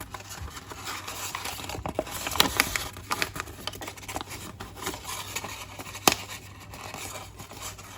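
Paper is creased and folded for an origami lantern, giving soft crinkling, rustling and sharp little taps of crease work at close range, irregular and fairly quiet with no voice.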